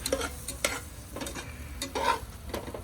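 Onions sizzling in hot oil for a mutton curry, a steady close fry with repeated scraping stirs of a spoon through the pan, no talk.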